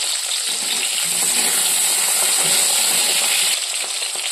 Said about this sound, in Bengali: এইবার আমি ভাজবো হচ্ছে পুঁই শাকের ডাঁটাগুলো।